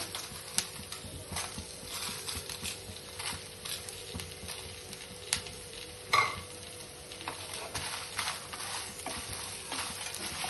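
Byadgi chilies fry and get stirred in a pan for a chicken curry masala, giving a steady soft sizzle with scattered scraping stir sounds and a few sharper clinks, close and fairly quiet, with no talking.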